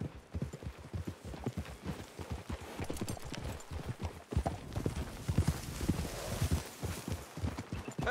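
Steady clip-clop of horse hooves at a walking pace through trees in Red Dead Redemption 2, moderately close, with a faint background ambience and occasional soft movement.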